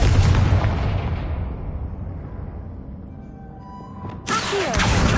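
A Confringo fire spell from the video game Hogwarts Legacy bursts with a loud, broad explosive blast that decays over several seconds, followed by a second sharp burst near the end.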